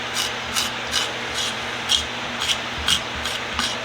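Scraping dirt and light varnish off a wooden hand tool handle, a close, quiet series of regular rasping strokes, roughly two per second, each a short hissing scrape over a faint steady hum.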